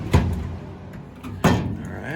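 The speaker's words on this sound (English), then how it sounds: "Let's take off the lower door." A lower door panel comes off a Goodman furnace: two sharp metallic clanks about a second apart, close, with a voice speaking underneath.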